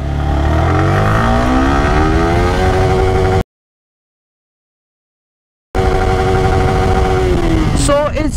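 Yamaha R15 V3 motorcycle accelerating hard in first gear, engine note climbing steadily in pitch over several seconds, loud and close; a brief gap of silence interrupts before the revving resumes and rises again.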